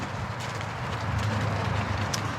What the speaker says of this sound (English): Just hanging out with the horses in the arena.